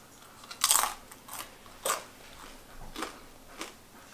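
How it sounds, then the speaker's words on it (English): Air-fried, pressure-cooked potato bitten with a close, crisp crunch, followed by several quieter chewing crunches spaced out over a few seconds, with no talking. "Decent crunch and still perfectly soft on the inside and not too moist."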